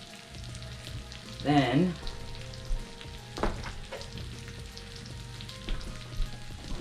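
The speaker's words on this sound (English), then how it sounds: "This is modernized sizzling plate sisig." Sisig with red onions and chilies sizzles and spits on a hot metal sizzling plate, a steady close crackle with a brief louder burst of voice and scraping early on, and a short spoken word over it.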